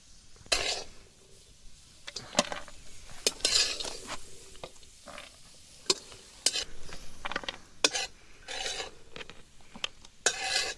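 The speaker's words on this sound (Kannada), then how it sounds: "ಸಣ್ಣ ಉರಿಯಲ್ಲಿ ಸ್ವಲ್ಪ ಫ್ರೈ ಮಾಡ್ಕೊಳ್ತೀವಿ." Cashews, almonds and raisins fry in a pan over a low flame for carrot halwa while a spoon stirs and scrapes against the metal in irregular clinks and rasps. The sound is close and moderately loud, with no voices.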